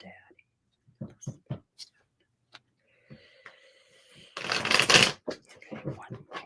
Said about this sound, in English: I shuffle until I'm told to stop